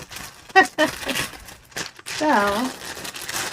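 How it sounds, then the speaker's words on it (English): Crinkly plastic bag of diamond painting drills being handled and opened, with sharp rustles and crackles near the microphone while a person talks over them. "And apologies for the crinkly noise."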